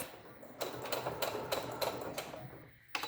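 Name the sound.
sewing machine stitching a cloth mask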